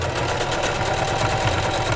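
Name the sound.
heavy-duty Singer sewing machine stitching cotton fabric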